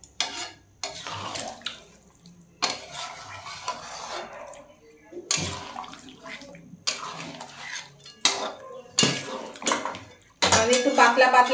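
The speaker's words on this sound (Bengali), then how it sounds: "আমি গরম জল করে রেখেছি, গরম জলটা দিয়ে দিলাম।" Hot water is poured from a vessel into a pot of mutton curry in several separate bursts, each splashing and gurgling close by, with utensils clinking against the pot between pours.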